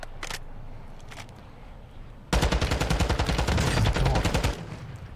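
Gunfire in the video game Call of Duty: Modern Warfare: scattered distant shots, then a loud sustained burst of rapid automatic fire lasting about two seconds before easing back to quieter background.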